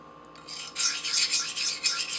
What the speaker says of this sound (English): it's hard to talk and sharpen at the same time